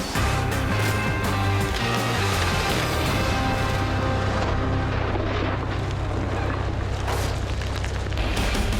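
A bomb blast set off against a slab of oobleck goo to test whether it is bomb-proof: a loud, sustained rumbling boom with heavy low roar and debris noise filling the whole stretch, no voices.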